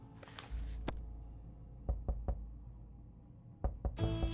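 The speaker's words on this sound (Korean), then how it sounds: "누가 노크한다. 노크 소리 뭐야?" Several sharp knocks on a door in the survival game 60 Seconds! Reatomized, heard in two short bursts of three, close and distinct over a low background hum.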